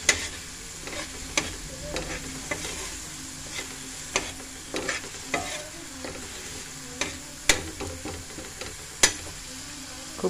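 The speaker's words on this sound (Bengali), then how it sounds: "এখন একটুখানি ভাজা ভাজা করে" Cauliflower leaf paste with garlic, green chilli, salt and turmeric frying in a pan, a low steady sizzle punctuated by repeated sharp spatula scrapes and taps throughout, close and alone without talk.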